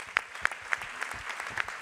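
Faint, sparse applause from an audience at an events-industry awards night in Lyon, only a handful of distinct, evenly spaced claps that sound far off.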